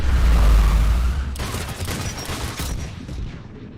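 Garrus's sniper rifle fires in Mass Effect 3 with a loud, booming crack that rolls into a dense crackle of gunfire and combat noise, fading slowly over a few seconds.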